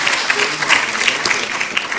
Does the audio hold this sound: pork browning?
no